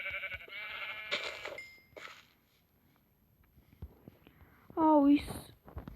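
Minecraft sheep bleat in a short wavering burst near the end, following brief tones and game sounds, with quiet stretches between.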